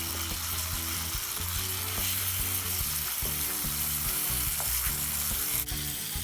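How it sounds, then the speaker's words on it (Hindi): Eggplant sizzling and frying in a pan with roasted garlic while being pressed and mashed, a steady close sizzle broken by repeated scraping, stirring knocks throughout. "हम बैगन को भूनते हुए मैश भी करते जाएंगे।"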